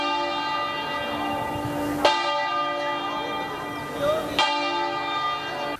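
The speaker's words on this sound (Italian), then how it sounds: "Tutte le chiese della diocesi hanno suonato le campane a lutto" Church bells in Treviso toll in mourning just before noon, sustained ringing with strong overtones and fresh strikes about every two seconds, loud and close with no voices.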